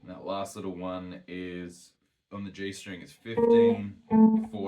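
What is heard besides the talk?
No distinct noise like a dog, phone or traffic.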